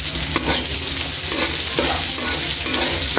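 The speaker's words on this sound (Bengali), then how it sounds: "পেঁয়াজগুলো একটু হালকা ভেজে" Chopped onions frying in hot oil for a Bengali spinach (palong shak) dish, a steady, dense sizzle close by with faint stirring scrapes, continuous throughout with no talking.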